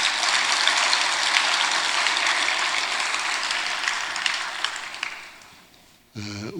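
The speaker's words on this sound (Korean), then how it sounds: "박수 한번 쳐줘요." Church congregation clapping, a dense sustained wash of applause that gradually fades over about five seconds before a voice begins speaking.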